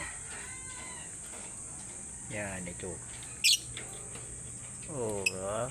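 A pet African bird at home gives two short runs of rising, chirping calls, faint and fairly close, with brief soft speech between them over a quiet room background.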